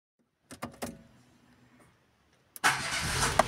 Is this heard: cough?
no